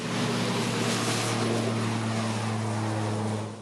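Propeller airplane engine droning steadily in flight, heard from inside the cabin as a constant loud hum with a low tonal buzz throughout, no voices.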